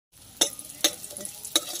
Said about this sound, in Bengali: এবার ওই তেলেতে বড়িটা ভেজে নেব।